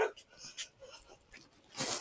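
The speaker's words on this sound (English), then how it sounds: "dog is not angry, but we better not go very near the dog's yard." A dog whimpers in its yard in a few short, thin whines and breathy sounds, fairly faint and at a moderate distance, with gaps of quiet between them.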